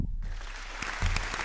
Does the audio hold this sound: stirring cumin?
no